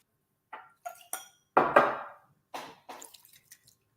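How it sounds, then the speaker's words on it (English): Whisky glass being rinsed at a kitchen sink, scattered splashes, drips and light glassy clinks in short irregular bursts, close and fairly quiet. "I'm just going to wash the glass out here."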